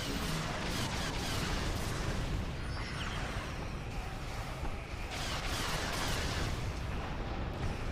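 Quantum torpedo volleys striking in the space game Star Trek Online make a dense, continuous roar of overlapping booms and blasts that holds steady at a fairly even level throughout.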